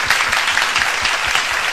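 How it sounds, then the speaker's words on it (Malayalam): A studio audience and panel applaud Mr. Vijayan on a Kairali TV family music reality show, a loud, close burst of rapid, continuous hand claps with no talking. "ഒരു big clap to mister Vijayan"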